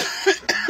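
A person coughs twice in quick succession, close and fairly loud, each cough a short harsh burst with a brief pause between, from someone with chest pain after an injury.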